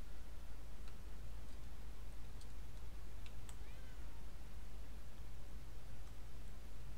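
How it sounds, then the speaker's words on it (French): A cat meows in the video game Murdered: Soul Suspect, a few faint, brief mews scattered over a steady low hum and noisy background. "Ah oui, le chat."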